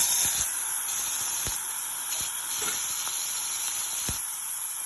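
Bottle gourd skin sautéing in a pan with a teaspoon of oil gives a steady, close sizzling hiss with a few faint clicks and taps, no voices.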